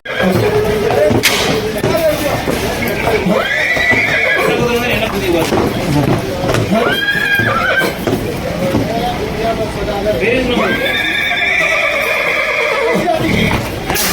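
Horses whinny repeatedly at a bustling horse market in Anthiyur, loud and close, with hooves clopping and people talking throughout.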